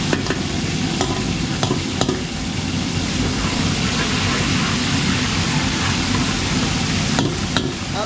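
Cooking oil and Star margarine sizzle loudly in a pan for catering-scale cooking in a Pampanga subdivision, a steady dense frying hiss with occasional stirring clicks.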